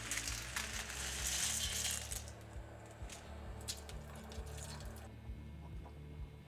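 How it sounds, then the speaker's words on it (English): Pasta goes into a pot of water on a home stove, making a wet splashing rush at first that settles into softer bubbling and small clinks, alone without talk. "now it's time to put the pasta in"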